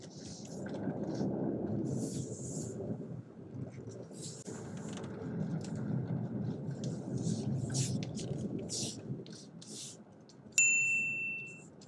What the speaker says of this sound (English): That sound is the car telling us that we've reached our speed limit.